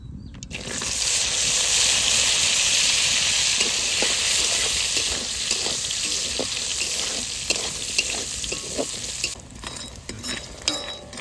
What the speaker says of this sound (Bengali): ডালে ওইটা একটু লাল লাল করে ভেজে নিলাম